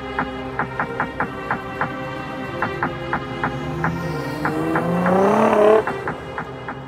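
Supercars at an outdoor Provisions Cars and Coffee meet: a regular, pulsing engine throb close by builds into a loud rising rev, then eases back to the steady rhythmic idle.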